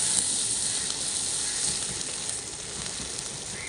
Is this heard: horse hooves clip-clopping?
no